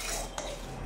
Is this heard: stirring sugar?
yes